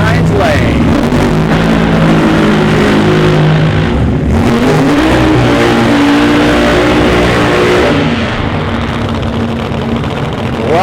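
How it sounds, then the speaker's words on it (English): Nitro-burning funny car engine revving for a burnout at a drag strip during Funny Car Chaos at North Star on a Saturday night; a loud, sustained roar fills the whole stretch, with an announcer talking over it. "Brandon Lewis, the nitro-burning attitude adjuster out of Broken Arrow, Oklahoma, going to heat up the hides on the spectator side"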